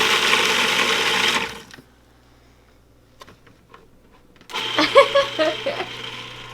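A blender pulses garlic in short loud bursts, a whirring run at the start and a harsher chopping burst near the end, with a quiet pause between.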